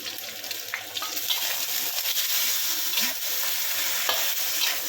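Vegetable curry with eggplant and coconut cream is stirred in a hot pan, a continuous loud sizzle with scraping spoon strokes throughout.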